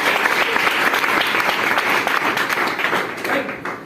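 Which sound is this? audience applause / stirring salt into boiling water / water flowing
audience applause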